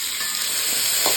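A brief, close burst of steady frying sizzle as coriander seeds, cumin, dried red chillies, shallots, green chillies and garlic sauté in a hot pan with oil. No one speaks.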